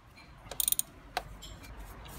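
An oil filter wrench turns the oil filter on a VW Golf Mk4 1.9 SDI, giving a quick cluster of faint ratcheting clicks followed by a single click.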